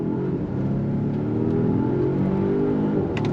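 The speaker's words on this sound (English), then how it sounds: "But let's go on throttle again." A 2025.5 Volvo XC90 SUV with an 8-speed automatic and all-wheel drive accelerates hard on throttle, its steady engine drone and road roar loud and continuous throughout with no talking.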